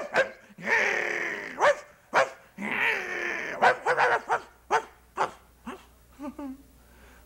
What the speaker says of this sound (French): Et puis là, le chien qui se met à grogner.